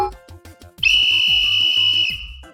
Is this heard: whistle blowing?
yes